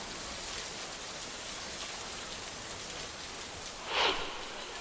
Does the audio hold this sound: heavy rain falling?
yes